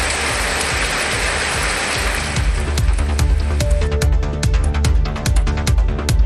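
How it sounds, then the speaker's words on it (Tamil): Drizzle falls in Rasipuram as a dense, steady hiss, and then water begins dripping nearby in quick, uneven taps that grow louder and more frequent. "சுமார் அரை மணி நேரத்திற்கு மேலாக சாரல் மழை பெய்தது"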